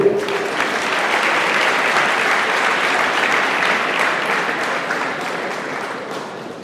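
Sustained applause from a crowd of students and officials at a school sports event, welcoming the Minister of Education, loud and dense throughout, easing slightly toward the end.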